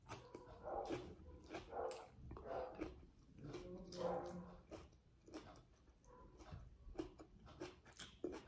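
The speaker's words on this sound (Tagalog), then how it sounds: "Ang aso." A dog barks in short, repeated bursts at close range, with people talking over and between the barks.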